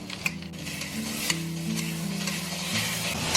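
Three vegetables stir-fried over low heat in a wok with a little oil while sauce is poured in, giving a steady close sizzle with stirring and scraping throughout.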